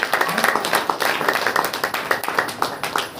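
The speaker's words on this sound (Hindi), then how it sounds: "ताली बजा करके" Congregation at a church prayer meeting clapping hands in a fast, steady rhythm, dense and fairly loud with many hands together throughout, reverberant hall sound and no clear talk.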